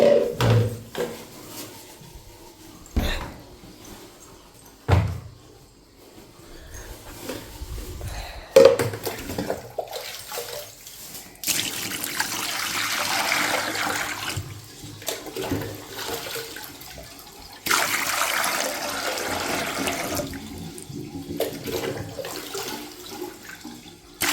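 Water pours out of a container in a home setting, a rushing, splashing gush that swells and ebbs over several seconds amid clatter and handling knocks, fairly close and with no voices.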